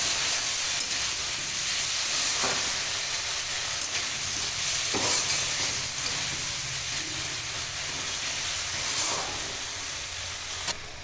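Vegetable and oil mixture sautéed in a pan for a vegetarian pea-lentil fritter and potato dish, a steady close sizzle and hiss with occasional stirring scrapes.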